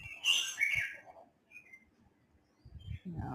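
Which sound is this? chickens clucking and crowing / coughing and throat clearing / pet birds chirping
pet birds chirping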